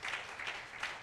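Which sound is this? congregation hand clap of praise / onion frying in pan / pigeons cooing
congregation hand clap of praise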